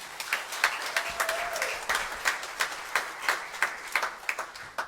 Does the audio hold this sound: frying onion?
no